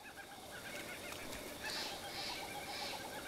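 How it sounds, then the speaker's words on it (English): A kookaburra's laughing call in Zelda: Breath of the Wild, several faint cackling bursts repeating over a soft ambient background. "That's the sound of a kookaburra."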